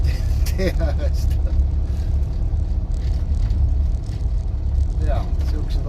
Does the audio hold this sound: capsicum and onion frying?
no